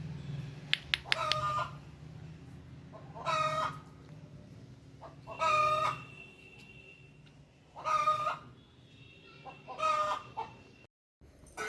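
Chickens cluck and a rooster crows at a village home, with five loud, separate calls spaced a couple of seconds apart over a low, steady background hum; no one speaks.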